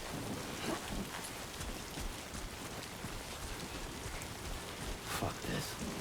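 Steady timefall rain hisses across the world of Death Stranding 2, a dense wash of falling drops with soft pattering close by, continuous and fairly quiet, with faint speech now and then.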